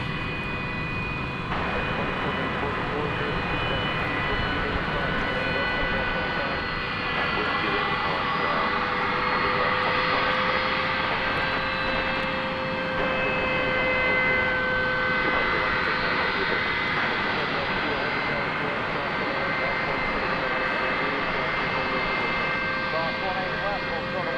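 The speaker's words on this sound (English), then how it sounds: "It is rising into the skies with a destination of Guadalajara in Mexico." A jet airliner roars steadily as it takes off from DFW bound for Guadalajara, Mexico, a loud continuous engine rumble with whining tones held for the whole stretch, while a voice talks over it.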